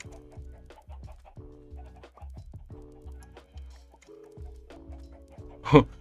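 Chickens cluck in the video game Minecraft with a repeating run of short, bright, synthetic clucks at a steady pace, then a brief louder burst near the end.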